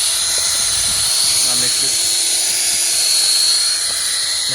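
A drill mixer stirring Latex-ite driveway sealer, a steady high whining buzz with a hissing wash running throughout, fairly loud and close, with faint low talking underneath.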